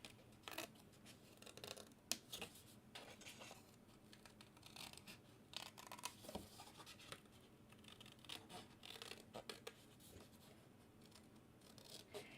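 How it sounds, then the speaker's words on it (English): Scissors snip through paper along a traced line in a series of quiet, close cuts with soft rustling and scraping between the snips. "I'm just cutting right on the inside of my trace line"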